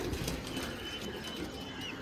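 Pigeons in a loft collection coo softly and continuously, a low murmuring close by with no talk over it.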